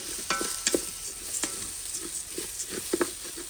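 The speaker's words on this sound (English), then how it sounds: "So we're going to keep cooking this and letting it brown." Vegetables fry and brown inside an Instant Pot while a spoon scrapes and stirs, giving soft clinks and scrapes over a gentle, continuous sizzle.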